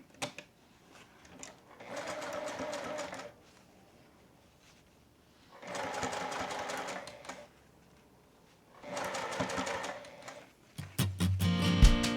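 A sewing machine stitches bias tape onto a car seat pad made from dish mats, running in three separate bursts of steady whirring with quiet pauses between, then a louder clattering mechanical noise at the end.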